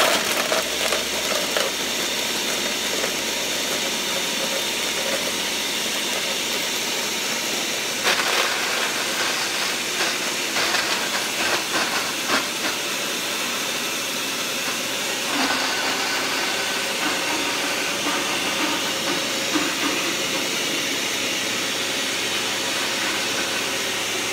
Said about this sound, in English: I'm just going to hit blend